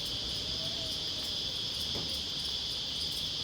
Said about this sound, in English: I've got a good supply of crickets.